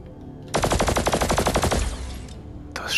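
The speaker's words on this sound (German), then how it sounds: "Schuss." Rapid burst of automatic gunfire in the VR video game Hubris, about a second and a half of loud, evenly spaced shots followed by a short echoing tail, with no talking.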